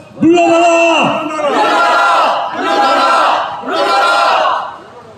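A crowd at a candlelight street rally in Cheongju chants a slogan demanding President Yoon Suk-yeol step down, four loud rhythmic phrases in unison, each a sustained group shout with short pauses between.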